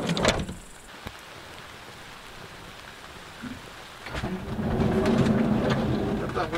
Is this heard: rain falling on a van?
yes